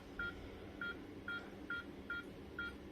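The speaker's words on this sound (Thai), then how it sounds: "ไฟสีเขียวขึ้นพร้อมเสียงติ๊ดติ๊ด" A Xiaomi Pro smart door lock keypad emits six short electronic beeps at an even pace as the code is set, quiet against faint background hum.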